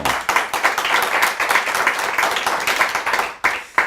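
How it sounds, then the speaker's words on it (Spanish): Congregation at a church service applauding after a psalm reading, dense steady clapping throughout at close range with no talk over it. "Y déselo si quiere darle su aplauso."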